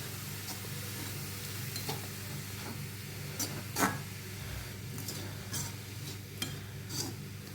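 Sprouted green gram stir-fry with salt cooking in a covered pan over low heat, a soft steady sizzle and hiss with occasional light clicks and taps.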